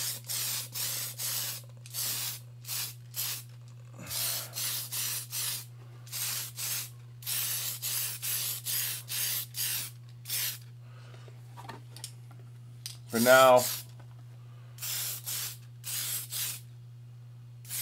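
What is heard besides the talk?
spray painting a part white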